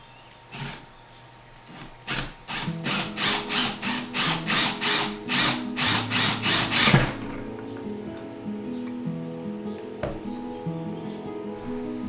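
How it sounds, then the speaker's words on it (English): A power drill whirs in a quick series of short bursts, about a dozen in a row, boring holes in hard oyster shells, close and loud, then falls quiet with a faint hum. "I'm just going to drill a hole in each one"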